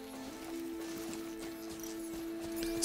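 Horse hooves clip-clopping in the video game Horizon Zero Dawn, a steady soft patter of steps over a constant tonal game background hum.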